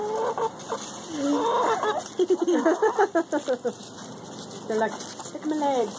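Speckled black-and-white Plymouth Rock chickens cluck in a hen house, their calls mixed in beneath close conversation.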